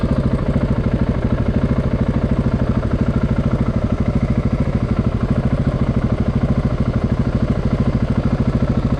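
A 2013 KTM 690 Enduro R single-cylinder engine idles close by, a steady, even low-pitched thumping pulse with mechanical clatter, running alone without talk.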